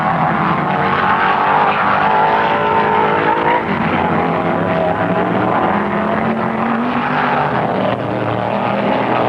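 Stock cars race at the 1974 Permatex 200, with Maynard Troyer's Mustang engine wound out among the field: a continuous, loud roar of several racing engines, steady throughout with no gaps.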